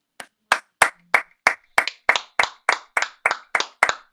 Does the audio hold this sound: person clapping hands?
yes